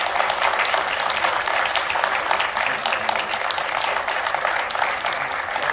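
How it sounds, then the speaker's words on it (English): A room full of people applauds moot court students at a Law Day event, with dense, loud, continuous clapping that stays even throughout. "I think you all deserve a round of applause."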